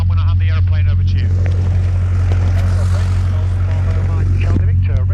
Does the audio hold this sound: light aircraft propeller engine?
yes